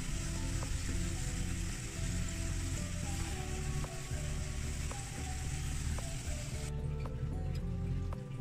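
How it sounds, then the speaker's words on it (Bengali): Fried onion-garlic tempering added to a lentil dal with radish, giving a steady, close, fairly quiet sizzle with scattered clicks throughout. "আমি বাগারটা ডালে দিয়ে দিলাম"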